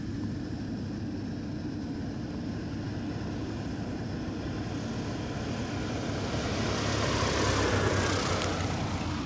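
Steady droning engine of a yellow Vagabond light airplane on approach to the runway at Merritt Island, a continuous close cabin hum with propeller buzz that swells slightly near the end, with no talking.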